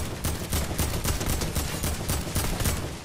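Rapid automatic gunfire in Fortnite, a dense unbroken burst of close, loud shots that rattles on for about three seconds.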